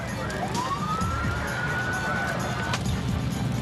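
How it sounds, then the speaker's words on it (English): An ambulance's wailing siren rises and holds steady over loud, constant street noise, passing nearby. "Ambulance is coming up the street."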